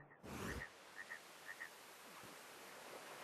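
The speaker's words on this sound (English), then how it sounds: "Hello, Mr. Frog." A frog in the video game Fez gives a few short, soft croaks spaced through the clip, chirpy blips over a steady hiss of ambient game noise.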